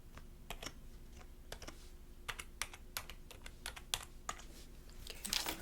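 Rapid clattering keystrokes on a computer keyboard at an insurance call center desk, irregular bursts of close, crisp taps with short pauses, growing busier toward the end, with no talking.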